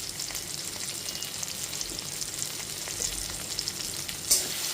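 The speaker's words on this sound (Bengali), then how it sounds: "এখানে টমেটোটা খুব তাড়াতাড়ি নরম করার জন্য একটু ঢাকা চাপা দিয়ে টমেটোটাকে নরম করে নিচ্ছি" Tomatoes softening under a lid in a pan with a little oil, giving a steady, moderate sizzle and faint bubbling throughout, with one brief sharper crackle near the end.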